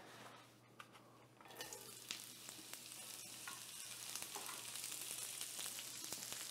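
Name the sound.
thinly sliced onion sautéing in warm oil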